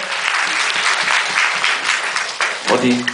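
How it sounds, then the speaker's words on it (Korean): A theater audience at a post-show talk for the play Bad Magnet breaks into loud, steady applause, a dense wash of clapping with a voice briefly heard near the end. "큰 박수 한번 부탁드리겠습니다"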